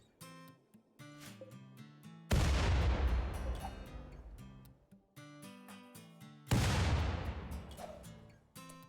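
Two grenade explosions in the RimWorld video game, each a sudden loud boom that decays over a couple of seconds, set several seconds apart over a quiet stretch of game music.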